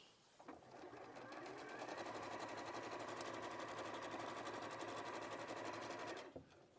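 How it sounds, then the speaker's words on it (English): A sewing machine stitches along a line of fabric in a steady, fast mechanical whir that runs for several seconds at close range, starting and stopping cleanly. "And then sew along there."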